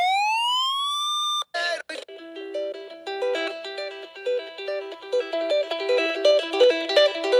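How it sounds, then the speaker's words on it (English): A Raynic weather emergency radio sounds its alarm through the built-in speaker: a loud rising siren wail, then a brief break into a rapid, repeating electronic warble of beeping tones that continues steadily. "The built-in speaker is actually pretty loud for both the radio, and it also has an emergency alarm."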